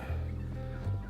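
Turkeys on a poultry farm near Lagodekhi reserve gobble in two quick, warbling bursts, fairly close and clear over quiet background noise.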